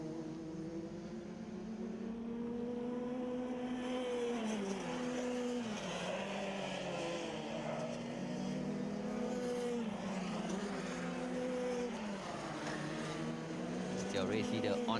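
Racing karts on the final lap at Shah Alam Karting Circuit whine steadily at high revs, the engine pitch rising and falling through corners as the pack holds a continuous buzzing drone, with commentary talking over it.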